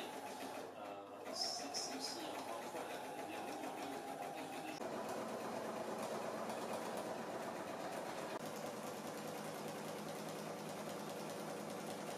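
A sewing machine stitches a waist seam on an Elysia garment from a Roberts Wood kit, running continuously with a fast, even mechanical whir at moderate volume. Faint voices may sit underneath.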